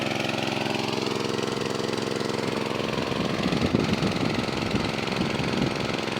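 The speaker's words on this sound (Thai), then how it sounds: "ใช้สูบสามนิ้วนะครับ เครื่องเบนซิน สูบสามนิ้ว" A petrol-engined 3-inch water pump runs steadily and loud, a continuous droning engine note with a rougher, knocking texture emerging in the second half.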